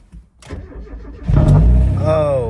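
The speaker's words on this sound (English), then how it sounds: "we need to start this car up" A Mazda Eunos race car, left unstarted for nearly two weeks after a fuel pump change, cranks briefly and then fires up. The engine catches loudly up close and settles into a rough, revving idle.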